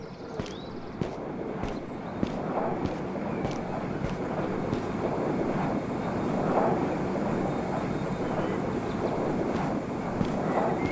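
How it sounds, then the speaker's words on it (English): A passenger jet flies by in a video game, producing a broad, swelling, airy roar that builds gradually and stays steady across the span, with occasional faint clicks and no speech. "We're getting a jet flyby."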